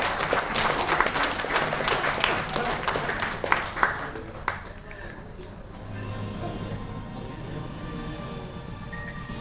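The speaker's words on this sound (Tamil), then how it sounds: "Once again, நல்ல ஒரு பலத்த கைத்தட்டல் கொடுக்கலாம்." An audience gives a loud round of clapping at a traditional Indian cooking event for kids; the dense applause thins out after about five seconds as a voice talks over the room.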